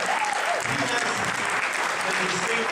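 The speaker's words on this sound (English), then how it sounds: "everybody give him a round of applause" A large audience at a speech event claps steadily and loudly throughout, a dense, even wash of applause with a faint voice underneath.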